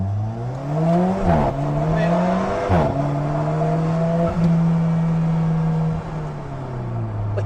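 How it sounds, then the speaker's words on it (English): Rear-mounted engine of a 2019 Alfa Romeo 4C revving and accelerating, loud and steady from inside the car, with a quick gear change and small pops breaking the climbing engine note. "Hearing the engine in the back, doing all these whistles and bangs and sucking and all the magic that it does"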